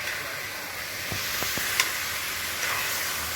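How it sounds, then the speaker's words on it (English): Garlic sizzles in a pan for chicken pie filling, a steady close hiss with a few soft scrapes and taps as it is stirred, no voices. "you're going to give it a bit of a stir"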